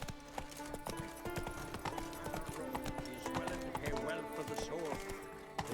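Horse Roach's hooves clip-clop steadily through The Witcher 3 alongside game music and a neigh, with a voice talking over the sound throughout.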